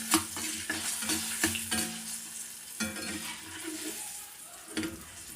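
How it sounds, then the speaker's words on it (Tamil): Urad dal with a small lump of tamarind roasts in a pan, giving a soft sizzle under repeated scraping strokes of a spoon stirring, fairly quiet and close. "இப்போ பருப்பு நல்லா சவந்தடிச்சப்பறம் இதுலேயே ஒரு சின்ன நெல்லிக்காய் அளவு புளி சேர்த்துக்கோங்க"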